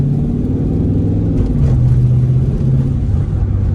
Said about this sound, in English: Try to hit this tunnel for y'all up here so I get it a better echo with the car.